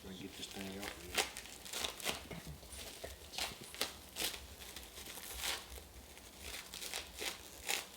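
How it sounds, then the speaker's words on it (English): Plastic wrap being cut away from a pressed muffuletta sandwich makes close, repeated crinkling and crackling bursts in an uneven rhythm, with a brief low voice near the start. "Just gonna cut the wrap off."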